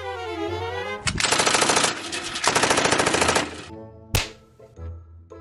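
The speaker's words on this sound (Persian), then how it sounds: "برای محکم کاری هم به پا و هم به سرشون هم شلیک کردم" Sustained bursts of rapid machine-gun fire form a loud, dense rattle across a few seconds, followed by a single sharp shot and a fading tail.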